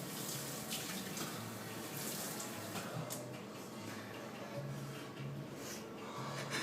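A tap runs steadily for rinsing, giving a continuous close splashing hiss with faint occasional drips, and no voices are heard.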